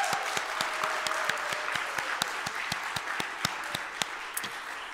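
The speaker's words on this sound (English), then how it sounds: "So one more round of applause." Audience applause in a church during a December Christmas-season service, with rhythmic, distinct handclaps over a broad wash of crowd noise, moderately loud and continuous.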